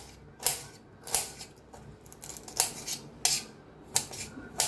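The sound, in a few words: knife finely chopping raw mango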